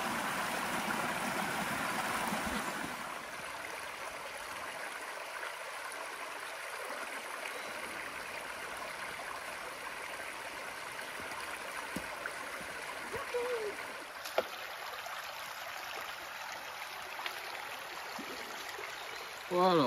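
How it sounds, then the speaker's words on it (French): A small river flows in a quiet rural setting, a steady soft rush and trickle of water that continues throughout, fairly faint and even, with a few brief knocks and a voice at the very end. "C'est bucolique, au bord d'une petite rivière."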